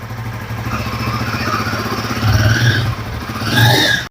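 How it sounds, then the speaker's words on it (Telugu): A Royal Enfield Guerrilla 450 motorcycle runs with a steady, throbbing exhaust note close by, swelling into two short revs near the end before cutting off abruptly. "ఎగ్జాస్ట్ నోట్ అయితే ఈ విధంగా ఉంది"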